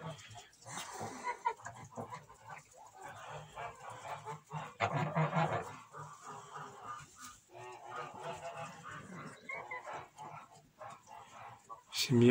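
Geese honk on a farm, scattered nasal calls near and far, with a dog barking and people talking quietly in the background.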